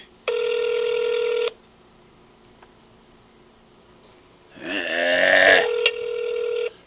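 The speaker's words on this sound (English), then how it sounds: "Come on, answer your phone." Ringback tone on an outgoing call to AOL customer service, one long steady ring burst followed by a quiet gap, then a second ring that starts under a brief burst of noise.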